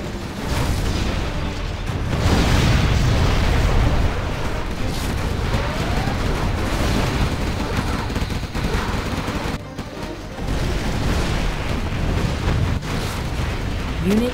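Continuous rumbling explosions and gunfire from a bombing run in the real-time strategy game Command & Conquer Generals Zero Hour, loud and dense throughout with a brief lull near the end.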